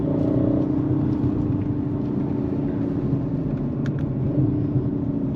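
An Audi RS4 2.9 V6 quattro with 450 horsepower drives on the road at speed, giving a steady, loud engine and road rumble that holds evenly throughout with no talking.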